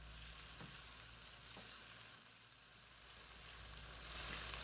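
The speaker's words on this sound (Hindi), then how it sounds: "अच्छी तरह से मिक्स करेंगे और 3 से 4 मिनट तक फ्राई कर लेंगे" Masala tinde (round gourd) frying in a pan, a steady close sizzle with a few faint scrapes of stirring, swelling louder near the end, with no voices.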